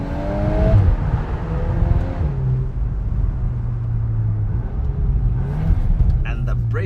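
A 2024 VW Golf 8 R Performance Pack with a 320 PS engine and DSG gearbox accelerates in first gear toward an underpass, its steady engine rumble and rising whir heard from inside the cabin, with voices over parts of it.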